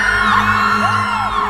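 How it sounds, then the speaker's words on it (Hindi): A woman screams loudly in a long, continuous wailing shriek with rising and falling pitch, delivered as a horror-story sound effect that fills the whole moment. "वो औरत जोर से चीखने लगी"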